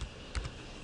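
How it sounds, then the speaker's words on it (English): A few quick keystrokes on a computer keyboard entering numbers into statistics software, soft close clicks in a brief burst. "we have to type those numbers in the table"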